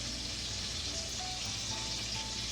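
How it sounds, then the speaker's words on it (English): Lemon slices sizzle loudly in a hot pan for a Moroccan chicken bowl, giving a steady, dense frying hiss that runs unbroken throughout with a low rumble beneath and no talk. "my really loud sizzling lemon slices"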